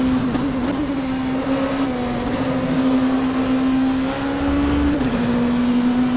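A steady, droning engine note from an Oreca 07 LMP2 race car on the Le Mans circuit in rFactor holds near-constant pitch at high speed, with only slight wavering and no talk.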